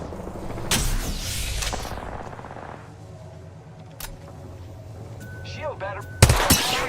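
Video game gunfire breaks out in loud bursts and single sharp shots, with rapid automatic firing near the start and a heavy blast near the end, over a steady mechanical background.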